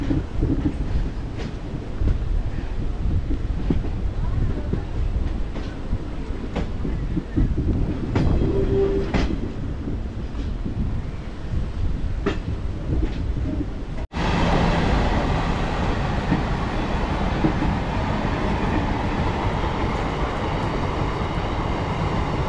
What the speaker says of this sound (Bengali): এটা কিন্তু বর্ষার স্পেশাল ট্রেন, তার সাথে সাথে রথযাত্রার স্পেশাল ট্রেন।